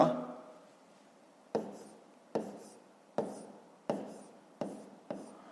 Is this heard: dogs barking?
no